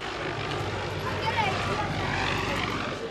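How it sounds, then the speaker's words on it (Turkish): A helicopter's steady rotor drone fills the background throughout, fairly loud and constant. "Helikopter de havadan takibe başladı."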